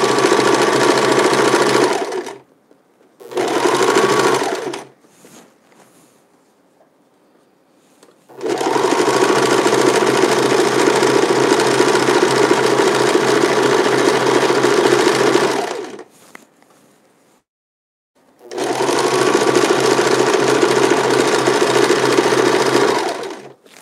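A sewing machine runs in three bursts, triple stitching seams on mittens made from wool sweaters. It hums steadily and loudly, with short quiet gaps between a brief opening run and two longer runs.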